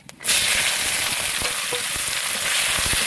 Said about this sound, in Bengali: এখন পেঁয়াজটা একটু লাল লাল করে ভেজে নিব